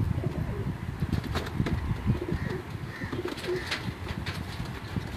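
Flying pigeons coo in low, soft, repeated calls, with occasional wing flaps and chirps against a faint, steady background.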